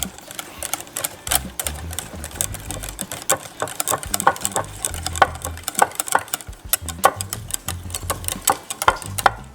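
Ingredients for frozen dog treats being mixed with a spoon in a bowl, a quick steady run of light clicking and tapping strokes, close and continuous, with no talk.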